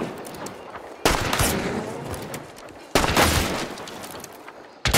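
Shotgun blasts in Hunt: Showdown: three sharp, loud reports a couple of seconds apart, each followed by a long rumbling decay, with faint voices in the background.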